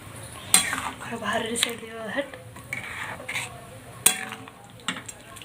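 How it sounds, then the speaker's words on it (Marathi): Rice being tipped into a pot of water for dum rice: sharp metallic clinks and clatters of a utensil against the pot, several distinct knocks among softer scraping and pouring, close by, with soft voices in the background. "नंतर याच्यात जे राईस आहे ते टाकून घ्यायचं आहे"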